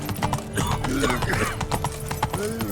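Horse hooves clip-clop in a steady rhythm in The Witcher 3 video game, with a brief whinny and game sounds mixed in, loud and close.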